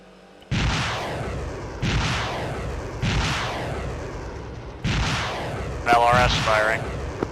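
LRS artillery firing in Arma 3, four heavy booming shots spaced about a second and a half apart, each with a long rolling decay, followed by a brief burst of radio-like chatter.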